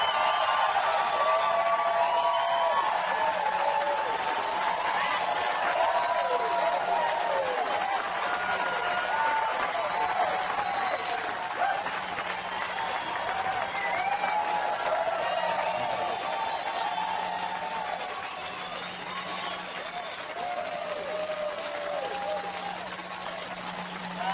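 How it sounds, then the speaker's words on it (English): An audience at a Les Brown motivational talk applauds, a broad wash of clapping and crowd noise sustained at fairly high level, easing slightly near the end, with a low hum beneath. "Give yourselves a round of applause."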